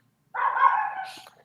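Dogs bark in a single short burst, a bright, fairly close yelp-like bark lasting about a second with no talk over it.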